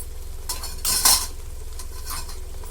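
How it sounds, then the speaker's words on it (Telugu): Onion paste with green chillies and curry leaves is fried and stirred in a pan: metal utensil clinks and scrapes, with a brief bright clatter, over a faint, low sizzle. "ఇది ఎప్పటి వరకు వేయించుకోవాలంటే ఈ ఆనియన్ పేస్ట్ ఇందులోంచి ఆయిల్ బయటికి వచ్చేంత వరకు వేయించుకోవాలండి"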